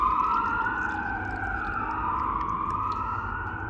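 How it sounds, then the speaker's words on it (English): A siren wails continuously, its pitch sweeping up and down, loud and fairly near, over low background rumble. "Sorry about the sirens."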